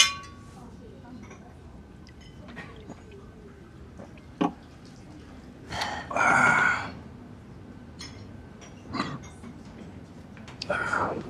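Glasses clink in a toast during an indoor drinking scene, with a couple of bright, ringing taps standing out against a quiet background and soft voices.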